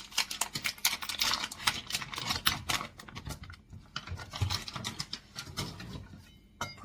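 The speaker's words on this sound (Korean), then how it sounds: "포장을 뺏겨내고요." Plastic packaging is peeled off fish cake in a kitchen, giving quiet, close crinkling and rapid tapping rustles that run steadily with a brief pause midway.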